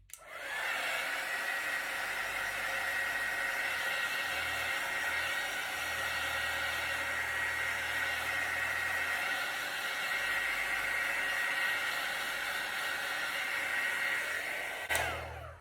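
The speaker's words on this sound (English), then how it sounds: "Just hit that with the heat tool again." A heat gun blows hot air over an acrylic fluid-art paint pour made with fluorescent colours and black cell activator. It gives a loud, steady, continuous whoosh for about fifteen seconds, close by and with no talking.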